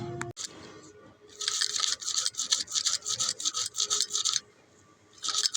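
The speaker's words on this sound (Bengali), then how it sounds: "এবার রসুনটা বেটে নিচ্ছি" Garlic is ground into paste for a Bengali-style bhetki fish curry. A sharp click comes first, then a run of rhythmic, gritty scraping strokes, close up, which pauses briefly and resumes near the end.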